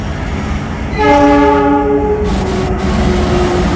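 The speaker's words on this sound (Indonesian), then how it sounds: "Kereta api gaya baru Malam Selatan dari Surabaya ke Pasar Senen, dia lewat selatan." A passenger train horn blares loudly nearby for about a second over the rumble of the passing train, which keeps rolling steadily afterward.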